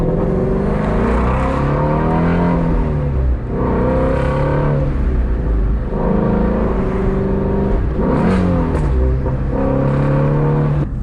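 Ford Mustang GT350R with a flat-plane crank V8 sends out a loud, close exhaust note, rising and falling through several rev swells and gear changes over about eleven seconds with no talking.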